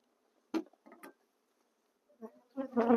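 Honeybees buzzing close by as a beehive is opened, coming in short intermittent bursts of droning hum separated by quiet gaps, with a fuller buzz building near the end.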